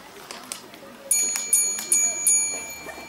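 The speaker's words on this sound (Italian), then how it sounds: "prova a suonare il campanello" A bright electronic doorbell chime rings in several repeated bursts, with faint voices and small clicks in the background.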